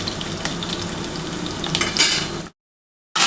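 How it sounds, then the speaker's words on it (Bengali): Potatoes fry in a pan with a steady close sizzle and occasional stirring scrapes, broken by a short silence before the sizzling resumes. "আমার কিন্তু আলুটা মোটামুটি ভাজা হয়ে এসছে দেখো"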